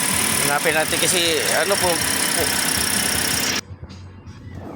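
A Toyota Vios engine idles with erratic, surging RPM, a steady mechanical drone running under conversation for most of the stretch before it drops off sharply near the end.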